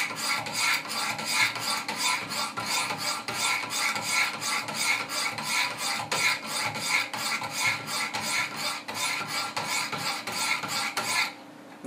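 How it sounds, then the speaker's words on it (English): Wicked Edge sharpener stones stroke the bevels of a Benchmade 940 knife in a steady, even rasping rhythm, close and continuous, with no talk, then stop sharply near the end. "So here we go, matching strokes until the marker's gone."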